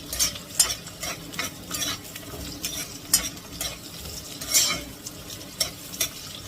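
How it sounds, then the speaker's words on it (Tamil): Cashews stirred into a frying tomato mixture, repeated scraping strokes of a spoon against the pan over a low sizzle, close and rhythmic with no talking. "சேர்த்து நல்லா மிக்ஸ் பண்ணிக்கலாம்."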